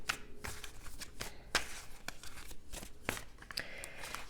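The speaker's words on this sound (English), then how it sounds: "let's shuffle with a little bit more intention here, and then we'll get the cards out for Leo." Tarot cards are shuffled by hand close up, giving a quick run of crisp riffles and soft slaps in an uneven rhythm.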